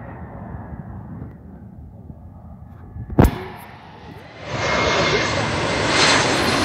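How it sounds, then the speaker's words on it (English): A fixed-wing airplane at LAX roars steadily nearby, with a sharp crack midway and the engine noise swelling louder and brighter toward the end. "here's another airplane."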